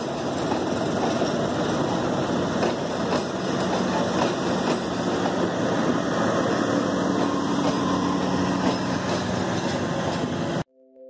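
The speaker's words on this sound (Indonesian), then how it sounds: "di stasiun Madiun kita berpapasan dengan kereta Malioboro Express 95 yang akan menuju stasiun Yogyakarta" An Indonesian passenger train, the Malioboro Express, rushes past at Madiun station, a steady loud rumble and rattle of wheels and carriages that runs on continuously before cutting off abruptly near the end.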